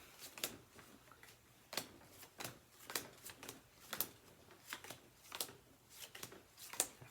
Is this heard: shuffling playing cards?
yes